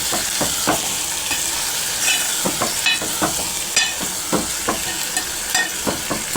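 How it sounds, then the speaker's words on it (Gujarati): Green cowpea curry is stirred and mixed in a pan, with a rhythmic series of spatula scrapes and clacks over a steady sizzle, loud and close. "હવે તેને હલાવીને મિક્સ કરી લઈશું આપણે"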